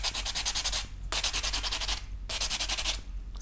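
A reliefing block's lighter-grit side rubbed over a DecoEtch pewter blank, three bursts of close, bright sanding strokes, each a quick run of rapid back-and-forth scrubs separated by short pauses.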